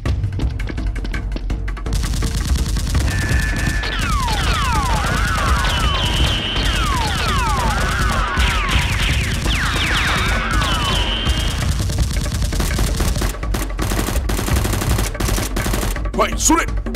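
Toy Nerf guns fire rapid bursts of clicking, popping shots during a chaotic play fight, layered over a constant loud background drone and excited voices.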